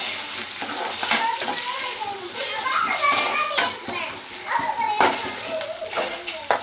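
Onions and curry leaves sauté in a pan for a hotel-style salna, giving a steady close sizzle with crackles and stirring scrapes, and voices heard faintly in the background.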